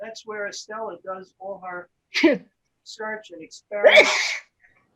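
A loud sneeze bursts out twice amid a person talking nearby, each one sharp and explosive.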